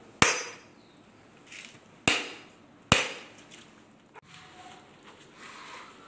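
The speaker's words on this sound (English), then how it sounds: "going to demonstrate how we cut the coconut" Three sharp, loud chopping blows strike a whole coconut, spaced a second or so apart, followed by quieter handling noises; outdoors while preparing Tongan chilli sauce.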